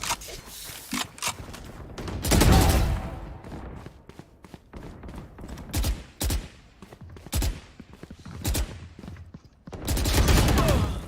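Phantom rifle fire in the shooter game Valorant comes in rapid bursts of close, punchy shots with loud sustained sprays and short gaps, with occasional thuds between them.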